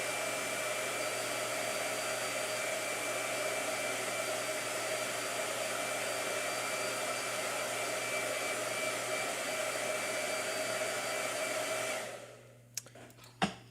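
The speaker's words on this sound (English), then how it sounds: "Yeah, blow dryer." A blow dryer runs at a steady, loud whoosh with a constant motor hum for about twelve seconds, then shuts off, leaving a few faint clicks and knocks.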